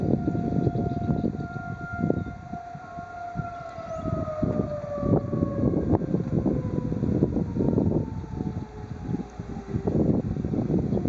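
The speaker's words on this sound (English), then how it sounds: "that concludes this siren test in middle of this winter storm" A tornado siren sounds during a winter snowstorm test, a long steady wail whose pitch slowly slides downward, loud and continuous across the whole stretch over constant wind and rumbling background noise.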